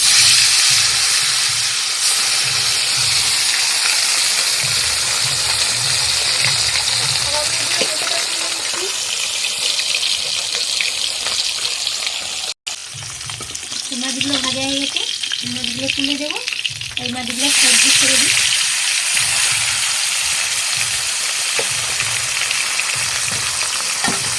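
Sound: bata fish pieces put into hot oil, frying

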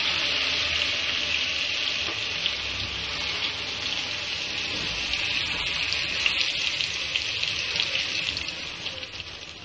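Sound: ginger garlic paste frying in ghee

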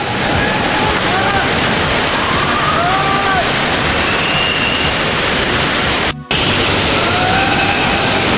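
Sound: Devkund waterfall, rushing water

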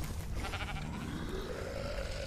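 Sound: wild sheep bleating in ARK video game

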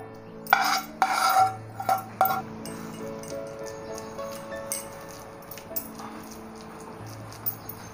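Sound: transferring dry fruit paag from the kadhai onto a plate

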